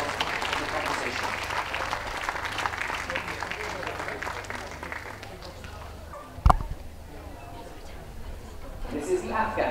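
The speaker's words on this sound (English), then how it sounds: "We have a big round of applause for our remaining best of breed winners." A crowd at a championship dog show hound group applauds steadily for several seconds, then the clapping thins out after a sharp knock and dies down to scattered claps and murmurs.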